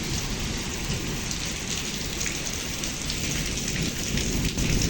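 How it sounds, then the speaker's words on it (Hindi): Steady, heavy downpour hissing continuously close by, with low rumbles of thunder rolling underneath and no voices. "झमाझम बारिश हो रही है दोस्तों।"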